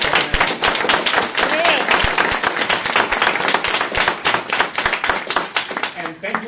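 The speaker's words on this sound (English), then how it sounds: "I'd like to give another round of applause." Audience at a Boston solidarity speaking-tour event breaks into steady, loud clapping that fills the room, a dense patter of many hands continuing throughout with little let-up.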